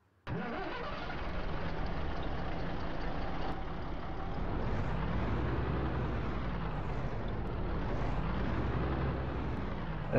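A Jelcz 080 bus engine in the OMSI bus simulator starts up and then runs steadily, a loud, continuous mid-low drone with shifting tone as it idles and revs, with no voices over it.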